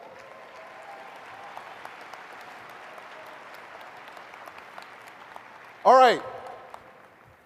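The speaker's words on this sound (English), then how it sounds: "Please give them a round of applause." A seminar audience gives a steady round of applause, a soft, even patter of many hands at moderate distance, broken near the end by a brief loud spoken interjection.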